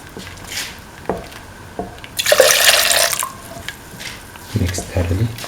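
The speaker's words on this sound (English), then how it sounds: "Pour in 250 ml of coconut milk." About 250 ml of coconut milk is poured into a sweet beaten rice, banana and dates mixture, giving a short close splashing pour amid scattered drips, clinks and wet stirring squelches.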